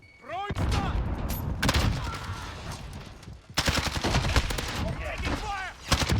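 Rapid automatic gunfire in Modern Warfare 2019 erupts in dense loud bursts, broken by a short lull before firing resumes, with radio-style voices and game effects mixed in.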